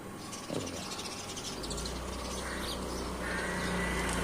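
Sparrows chirping in a dense, continuous chatter of many small birds close by, with a low steady hum of background noise underneath and no talking.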